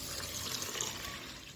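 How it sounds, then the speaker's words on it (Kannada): Water is poured into a bowl of urad dal, a short soft splashing trickle that lasts about a second and a half, close by and quiet, with no talk. "ಇದಕ್ಕೆ ನಾನು ಸ್ವಲ್ಪ ನೀರನ್ನು ಹಾಕಿ"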